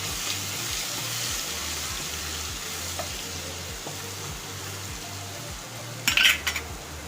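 Ginger, garlic and chili paste fries in a pan with a steady sizzle, while soft scraping stirs run through it and a brief clatter of a utensil sounds near the end.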